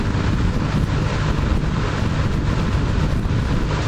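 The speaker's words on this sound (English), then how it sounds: "with a slight rumbling, because metal bladed box fans do that, this thing is insanely quiet" Close to an Emerson 746310-AW box fan with metal blades and a rattly back grill, a loud continuous rush of moving air sits over a deep, buffeting low rumble.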